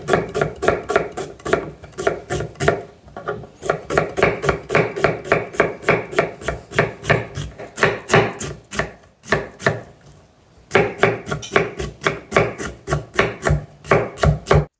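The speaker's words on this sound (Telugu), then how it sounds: "ఒక మీడియం సైజు ఉల్లిపాయని సన్నగా కట్ చేసుకుందాం" A knife finely chops a medium onion on a board in rapid, steady strokes, each a crisp close knock, with a couple of brief pauses before the rhythmic chopping resumes; no voices.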